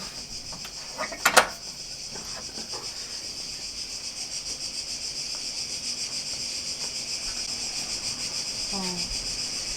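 Steady, dense insect chirping fills the whole recording, a continuous high buzzing chorus of grasshoppers with a brief louder rustle near the start.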